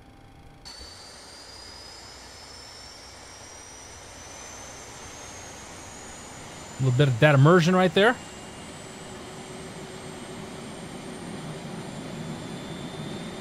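Simulated jet engine of a Boeing 737 Classic in the IXEG flight simulator spooling up: a steadily rising whine over a broad roar, lasting the whole stretch, with a brief voice speaking near the middle.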